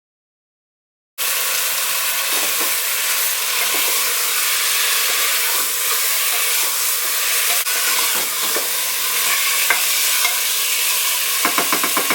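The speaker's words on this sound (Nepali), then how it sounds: "अब बिस्तारी मसलामा मोलेको मासुलाई एड गर्ने" Loud, steady sizzling of goat meat frying in spice paste for curry, starting abruptly after a second of silence, with faint stirring scrapes near the end.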